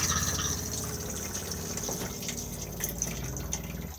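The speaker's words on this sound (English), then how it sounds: "and then push to flush" Thetford cassette toilet in an Elddis Majestic 135 caravan flushing, a short rush of running water with gurgles and drips, close and moderately loud, no talking.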